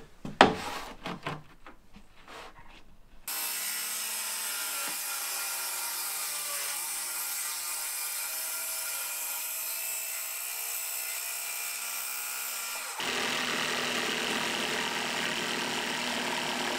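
Power tool cutting an opening to receive a frame while finishing a DIY editing studio: a long steady high whine and grind that holds for about ten seconds, then shifts harsher and louder near the end, after a few brief knocks.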